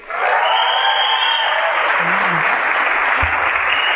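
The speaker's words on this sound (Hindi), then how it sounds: "आप लोग सब अपने लिए जोरदार तालियां बजाइए" Business seminar audience giving themselves loud applause, a dense, continuous roar of clapping throughout with a brief faint voice partway through.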